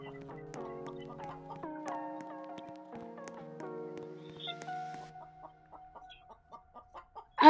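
Cartoonish chicken clucks from a Roblox video game, a busy run of short repeated clucking tones with game music-like tonal notes, then a few sparse clucks trailing off and a sharp burst at the end.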